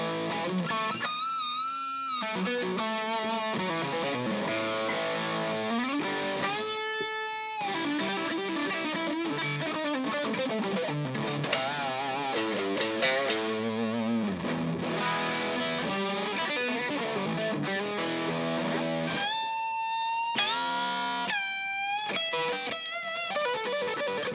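Distorted electric guitar through a Marshall-style amp tone on a Hotone Ampero mini plays gritty riffs and sustained bends with a crunchy, mid-heavy tone, up close and alone.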